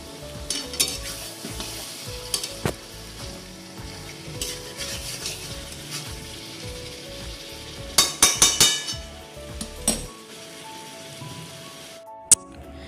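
Chicken kosha fries in a pan with a crackling sizzle, while a spoon scrapes and clanks against the pan in bursts of stirring, close and loud, ending with a sharp knock and a sudden drop to quiet.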